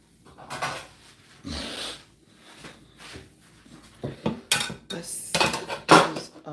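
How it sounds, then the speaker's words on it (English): Ceramic bowls and kitchenware clatter and knock on a counter while oranges are prepared for a detox juice, several sharp, close clinks and scrapes in irregular bursts, growing busier toward the end. "I think I need another bowl for that orange."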